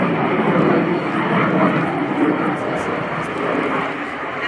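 An aerobatic airplane's engine roars steadily as it pulls up into the vertical through a quarter-cloverleaf manoeuvre at an air display, a continuous loud drone with a voice faintly underneath.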